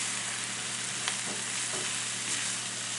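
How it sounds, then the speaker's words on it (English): Onions frying in a pot for a ground beef and tater tot casserole, a steady faint sizzle with a couple of soft stirring scrapes, heard alone with no voices. "while we're cooking these onions"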